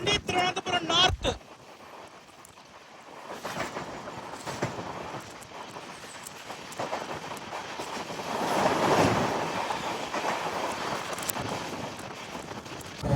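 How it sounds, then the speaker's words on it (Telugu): At the outer limits of Varkala Sivagiri station, the Kerala Sampark Kranti from Chandigarh to Thiruvananthapuram North crosses past, a rushing rail roar that swells and fades with sharp bursts. Voices are heard at times. "ఇంకొక క్రాసింగ్ కేరళ సంపర్క్రాంతి, చండీగఢ్ నుండి తిరువనంతపురం నార్త్."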